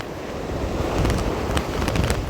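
Rough winter sea at Mina Hashish, with heavy waves surging and breaking continuously, loud and close, mixed with gusting wind buffeting the microphone.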